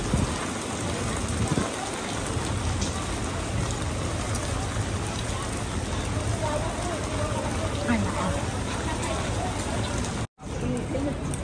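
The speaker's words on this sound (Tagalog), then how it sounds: "Kaya ang lakas ng ulan ngayon." Heavy rain pours down in a dense, continuous hiss, close and loud throughout, with a brief dropout near the end.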